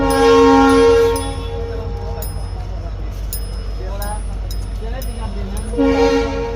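A loud, sustained train horn blares, fades under the steady rumble of passing railcars, then sounds again near the end.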